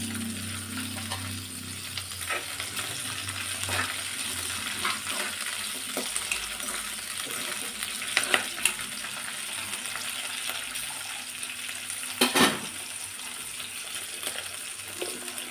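Green chillies and coriander seeds fry in a pan for a village-style brinjal and tomato chutney, giving a steady crackling sizzle with occasional louder pops and stirring scrapes, close and continuous with no talking.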